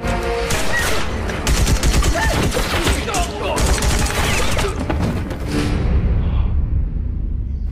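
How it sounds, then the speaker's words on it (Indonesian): Dense gunfire from a film shootout between drug-lord factions: rapid, overlapping shots and bursts fill nearly eight seconds at close, loud level with no letup. "baku tembak pun terjadi"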